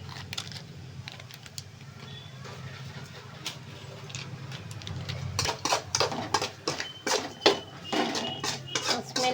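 Fried rice with masala being stirred in a pan, a steady low hiss under a run of quick scraping and clinking spatula strokes that grow louder and denser toward the end.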